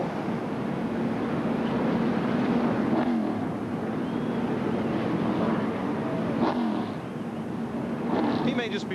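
Kevin Harvick's number 3 Busch Series race car revs at Texas during the 2001 Jani King 300, a loud engine roar under crowd noise and commentary.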